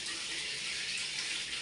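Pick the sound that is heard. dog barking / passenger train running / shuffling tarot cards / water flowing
water flowing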